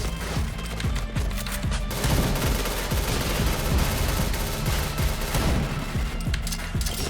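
A Point Blank online shooter match erupts in dense, continuous gunfire and explosions, loud and close, with rapid bursts layered over heavy booms.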